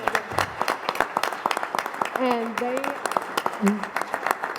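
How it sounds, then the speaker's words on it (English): A crowd at a school board meeting applauds with dense, steady clapping for several seconds while a voice speaks over it. "give them a round of applause"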